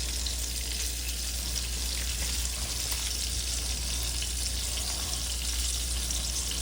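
Homemade hamburger patties fry slowly in a pan, giving off a constant dense sizzle with faint crackles that stays close and even for the whole stretch, with no voices over it.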